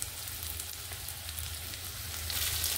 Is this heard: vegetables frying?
yes